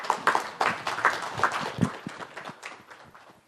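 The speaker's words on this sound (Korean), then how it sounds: "큰 박수로 이재정 박사님을 맞아주시기 바랍니다." A crowd claps to welcome a forestry researcher at a forest industry outlook session on wood pellets, with a dense burst of applause that gradually thins and fades over a few seconds.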